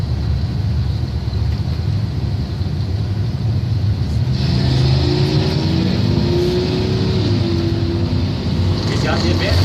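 Toyota Tundra and a small Ford 4x4 pickup launching in a drag race, a loud engine roar that climbs sharply as the trucks accelerate partway through, with an announcer talking throughout.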